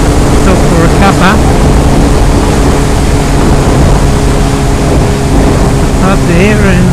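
A Suzuki B-King motorcycle cruises along a country road near Kangaroo Valley, its engine droning steadily and loud throughout beneath heavy wind rush, with a rider's voice talking briefly over it.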